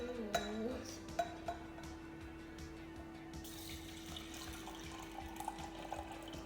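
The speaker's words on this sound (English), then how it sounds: "You don't have to pour all of that flask." Water pours from a flask into a laboratory beaker, measuring out about 300 milliliters. It makes a quiet, steady trickle with a few faint glassy clinks near the start.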